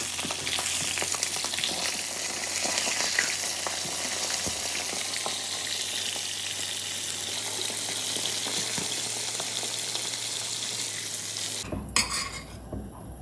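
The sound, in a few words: liver frying in ghee in a pan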